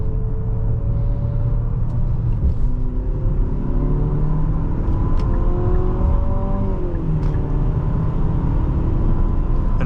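2026 Infiniti QX60 Autograph accelerating while merging, a steady engine drone rising through gears with clear tonal sweeps over road rumble, heard from inside the cabin without talk.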